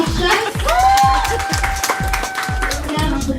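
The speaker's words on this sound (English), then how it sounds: "clap it up for the Bronx Chefs" A studio audience at a cooking competition claps and cheers for the Bronx Chefs, steady applause with rhythmic thumping beats underneath and voices mixed in.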